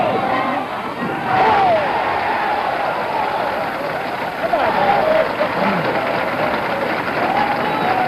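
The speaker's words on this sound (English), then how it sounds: "When you get that 11, the crowd really comes alive because they know that now this is it." A bowling alley crowd roars and applauds at an 11th strike in a row, a loud sustained wave of cheering that swells again midway while a commentator talks over it.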